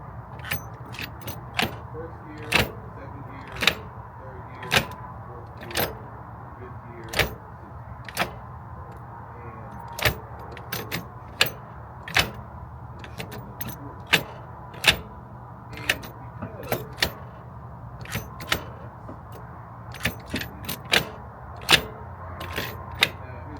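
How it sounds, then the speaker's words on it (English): Gear lever of a Toyota GR Corolla with a newly installed Racer X short shifter clicking through the gears: a long series of sharp, close mechanical clunks and snaps at irregular intervals over a faint steady hum. "So what I'm gonna do now is shift through all the gears."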